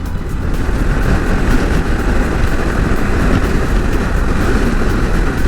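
Motorbike engine accelerating hard during a ride, a loud continuous roar buffeted by heavy wind rush, steady throughout.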